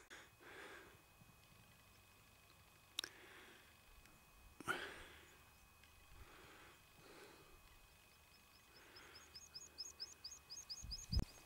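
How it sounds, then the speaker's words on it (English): Skylark song from high on a Lake District fell walk, a faint run of bright chirping notes building toward the end over wind and rustling, with a few sharp knocks and breathy noises nearer by. "You can hear a skylark there."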